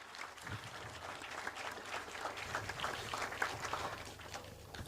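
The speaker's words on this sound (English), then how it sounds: "one more time, a round of applause" Delegates at a men's wellness summit applaud from the floor, a steady crowd clapping that holds at moderate loudness for the whole stretch, with a low murmur and stray voices beneath it.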